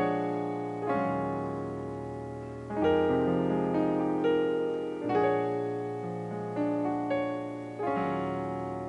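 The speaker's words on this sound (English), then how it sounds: "Here's some open voice 2-5-1 chord progression sound like this." Open-voiced 2-5-1 chord progression on piano in a gospel and pop style, with rich sustained chords struck roughly every two seconds and left ringing. Close, solo, with no speech.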